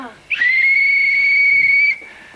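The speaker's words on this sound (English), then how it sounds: "it's a whistle, look" A single sharp referee's whistle blast for full time, held steady for about a second and a half, loud and close, then cut off.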